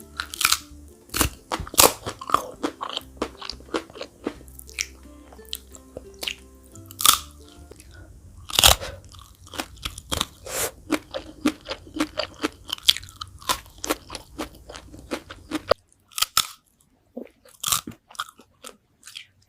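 Spicy fried chicken feet are chewed close to the mic in a mukbang, with loud, sharp crunches and crackles repeating in irregular bursts and wet squishy bites between them, no talking.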